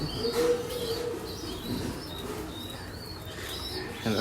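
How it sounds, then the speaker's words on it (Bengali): Pigeons gathered for release before a 35-kilometre pigeon race give soft coos and brief wing flaps, low and steady over outdoor background noise, with no talking. "সবাই আমরা ব্রেসার কবুতরটি ছাড়ার প্রস্তুতি নিচ্ছে এসে দাদায় আর শিয়াবে আর ভিনে তিনজনের কবুতর"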